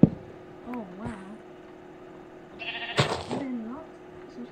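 Minecraft sheep bleat twice with wavering, nasal baas, clear and close in game audio, with a soft background hum and a brief sound effect between them.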